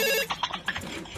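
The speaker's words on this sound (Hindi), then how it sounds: "फोन आ गया।" A telephone rings with a quick, bright electronic ringtone in short pulsing bursts, close and clear, with no talking over it.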